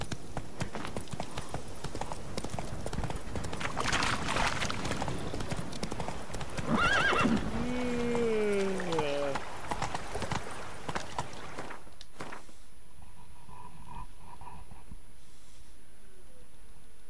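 Roach, a horse in The Witcher 3, gallops with steady rapid clip-clop hoofbeats and a loud whinny midway, the hooves driving continuously before stopping abruptly near the end, leaving quiet game ambience.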